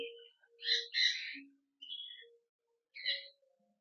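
Several bright bird calls and squawks at the Hantana bird sanctuary in Kandy, Sri Lanka, in short bursts, with a pause between groups, fairly close and clear against a quiet background.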